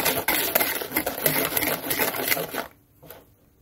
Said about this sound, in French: C'est juste que j'avais la flamme de descendre mon gros batteur.